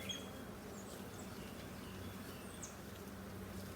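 Honey bees buzz steadily around a honeycomb being brushed clear of them, a continuous low, soft hum with occasional higher whines drifting close by.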